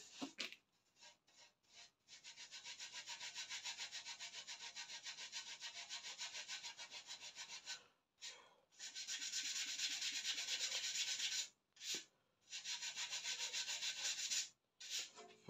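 A flower pot is scraped to bring out a bronze finish, giving long, steady, close rasping strokes broken by short pauses.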